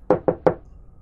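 Three quick, firm knocks on a house door at night, close and loud, evenly spaced, with silence after.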